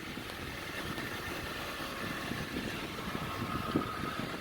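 A four-wheel-drive vehicle with 233,000 miles idles steadily at a salvage auction lot, its engine producing a low continuous rumble at moderate distance with no talk over it.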